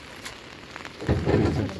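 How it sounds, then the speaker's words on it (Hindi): Steady rain hisses throughout, growing heavier and denser in the second half, with no voices. "अभी भी इतनी ज़्यादा बारिश हो रही है"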